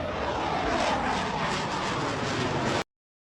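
A low-flying fixed-wing aircraft roars past over a beach during an aerobatic manoeuvre, giving a loud, continuous thunderous engine rumble that holds steady and cuts off abruptly.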